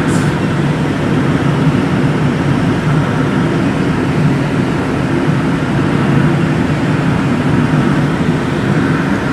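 A glider climbs on tow just after takeoff at an Air Force Academy glider program, with a steady loud drone of wind and engine noise holding without a break throughout.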